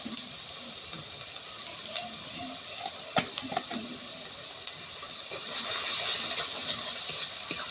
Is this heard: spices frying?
yes